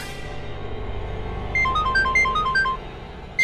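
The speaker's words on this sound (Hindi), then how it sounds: "बुल्टो को फोन लगा था" A phone ringtone chimes a short repeating electronic melody, close and clear, after a few seconds of low background hum.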